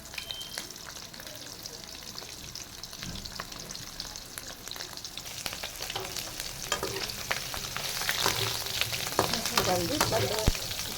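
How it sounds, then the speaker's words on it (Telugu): Bitter gourd pieces frying in oil in a kadai, a continuous crackling sizzle that grows louder and busier toward the end, with occasional stirring scrapes, close by and without speech. "ఇట్లా రెడ్ కలర్ వచ్చే వరకు వేయించుకోవాలండి."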